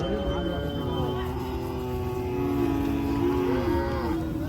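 Native cattle moo at the Anthiyur cattle market, several long drawn-out bellows overlapping one another close by amid a background of crowd murmur and voices.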